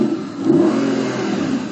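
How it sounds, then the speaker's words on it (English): An Audi V8 car engine revs steadily and loudly nearby at a supercar parade, a sustained mid-pitched growl that swells slightly, with no voices over it. "It's only the V8, the original engine we put in the car."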